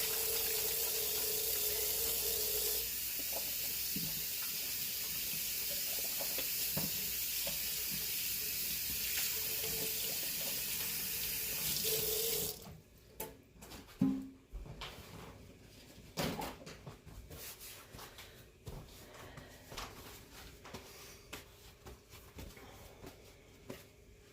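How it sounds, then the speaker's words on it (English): Kitchen tap runs steadily for about twelve seconds while hands are washed beneath it, then shuts off, leaving a quieter room with faint clinks, knocks and a soft background sizzle from the stove. "let me just wash my hands here"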